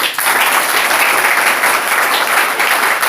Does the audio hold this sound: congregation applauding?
yes